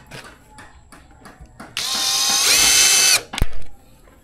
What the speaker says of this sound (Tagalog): lalagyan natin ito ng tornilyo gamit yung gypsum screw